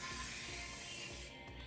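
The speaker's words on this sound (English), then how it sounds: "Okay, I put setting spray on though." Makeup setting spray misted in a steady, faint hiss that runs continuously, then tapers slightly near the end, with no talk.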